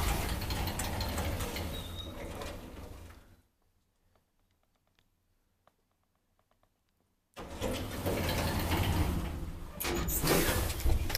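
Rare 1999 Kone traction elevator with Kone Novel fixtures in a Helsinki apartment stairwell: mechanical hum and sliding-door rumble, then a few seconds of near silence with faint clicks, before the loud motor and door noise returns.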